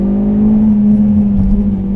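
Hyundai Veloster Turbo R-Spec engine held high in second gear, a loud, steady droning hum with a strong constant pitch and no voices.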